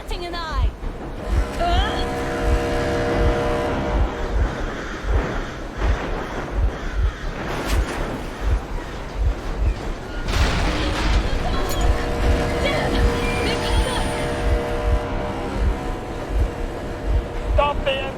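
A vehicle engine runs steadily in Metro Exodus, a loud low rumble with a rhythmic pulsing throb under wind-like noise, while voices speak over it.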